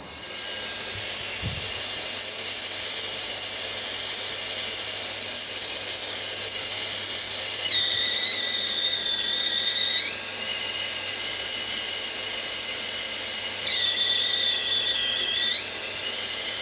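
A kettle whistles loudly and close, a piercing sustained high tone that drops in pitch twice for a few seconds before returning, with a faint hiss beneath.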